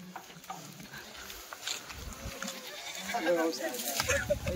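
Kathiawari goats bleat in short calls, rising near the end, with people talking over a busy farmyard background.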